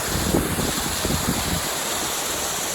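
Water rushes steadily into a canal lock at the Bunbury Staircase through an opened paddle, a broad continuous roar with some lower churning early on.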